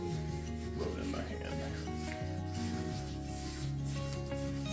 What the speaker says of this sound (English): rub it in my hand